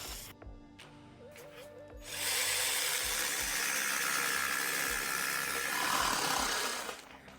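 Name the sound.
jigsaw cutting a hole in flooring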